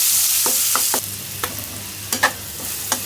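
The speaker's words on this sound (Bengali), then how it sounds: "এইভাবে করে তেলের উপরে ডিমটা ভেজে পেঁয়াজ আর কাঁচামরিচ দিয়ে দেয়" Oil sizzles steadily in a pan as an egg fries, while a utensil scrapes and taps the surface a few times, the hiss loud and close.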